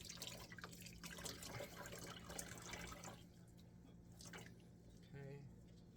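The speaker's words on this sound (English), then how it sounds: "now we're gonna get some of this water out" Water dripping and splashing as wet dyed sock yarn is squeezed out by hand over a sink, soft trickles and drips close by, with faint talking under it.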